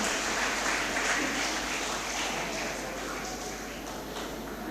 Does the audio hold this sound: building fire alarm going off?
no